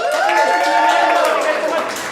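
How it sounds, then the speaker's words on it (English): Improv show audience claps and cheers in a short, lively burst. The noise swells and then eases as a voice speaks over the crowd. "Round of applause for our 3 audience members, special invited guests."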